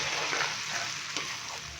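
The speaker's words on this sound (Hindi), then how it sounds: "अदरक और लहसुन के पेस्ट को हमने हल्का सा फ्राई कर लिया है।" Ginger and garlic paste frying in the pot for a beef pulao makes a continuous, close sizzle with soft crackles and faint stirring, with no voices over it.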